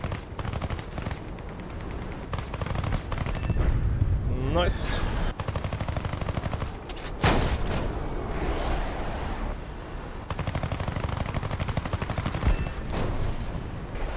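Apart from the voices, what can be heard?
aircraft guns firing in a video game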